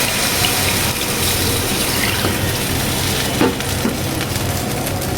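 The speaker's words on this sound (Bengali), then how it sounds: "আমি এই পর্যায়ে দিয়ে দিব পরিমাণ মতো পানি দিয়ে দেবো।" Water poured into a pan of curry with hilsa fish, fried potatoes and pointed gourd, a steady continuous gush and splash lasting about five seconds with no talk.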